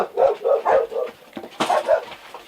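Dogs bark in a quick series of about seven sharp barks, close and fairly loud, in two short bursts with a brief pause between them.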